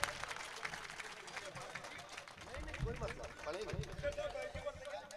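An audience at a poetry evening honouring Chhatrapati Shivaji Maharaj in Muktainagar applauds the poet Naeem Akhtar Khadmi; steady, distant crowd clapping blends with murmuring and babble throughout.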